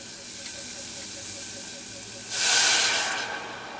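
Stock poured into a hot pan with mushroom stems and onion, a broad hiss and sizzle swelling suddenly midway over a steady background hiss.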